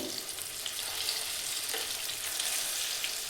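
Potato aloo bonda fritters frying in hot oil make a loud, continuous sizzle and bubbling hiss close up, with soft scraping as they are gently turned, no voices.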